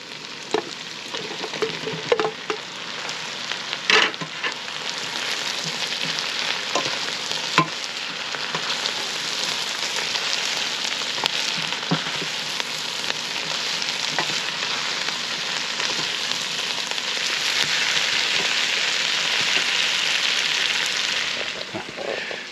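Lobster mushrooms sizzle and fry steadily in a jambalaya pot, a dense continuous crackle with occasional stirring knocks, close and fairly loud with no talking.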